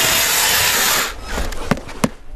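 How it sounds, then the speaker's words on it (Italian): A power drill fitted with a whisk churns fishing groundbait for roubaisienne pole fishing, a loud steady whirring grind that cuts off after about a second, followed by a few scattered knocks and rustles. "Adesso utilizziamo un trapano con la frusta perché è un accessorio molto utile proprio per evitare che si formino dei grumi antipatici"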